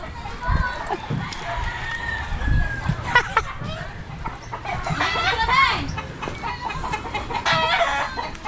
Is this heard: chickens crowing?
yes